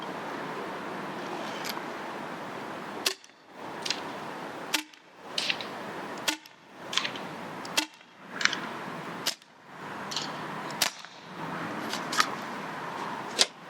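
A Scarab Arms TGR2 MK2 fires about nine sharp, cracking shots at an uneven pace, each a short snap set against a faint outdoor background.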